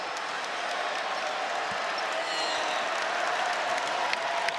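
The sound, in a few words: basketball game crowd reacting to fans on video board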